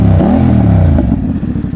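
A BMW F900R motorcycle fitted with a slip-on exhaust, revving loudly close by, its engine note rising and falling with a rough rasp and a rattling idle at the end.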